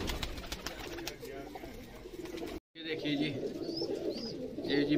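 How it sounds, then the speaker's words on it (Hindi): Pigeons in a breeding setup, birds being readied for flying contests, coo in low rumbling waves that continue after a brief dropout, with faint higher chirps overhead. "ये सभी कबूतर भैया तैयार कर रहे हैं बाजियों के लिए"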